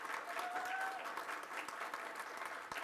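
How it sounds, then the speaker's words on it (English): An audience claps at the close of a software testing conference keynote, steady dense applause from a crowd filling the room throughout, moderately distant. "If I could get another round of applause for the conference"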